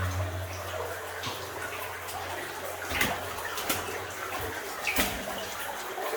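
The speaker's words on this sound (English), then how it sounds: "Where the water's flowing." Water trickles and flows inside an abandoned gold mine, a soft continuous wash with scattered drips and clicks, faint and close, with no talking.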